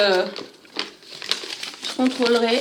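Paper crinkles and rustles close by in short bursts, while someone talks over it.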